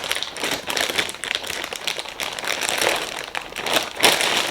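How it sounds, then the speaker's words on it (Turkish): Close, steady crinkling of the plastic bag of a 1000-piece jigsaw puzzle being handled and pulled open, a dense rustle with a few sharper crackles toward the end. "Hemen poşeti de açalım."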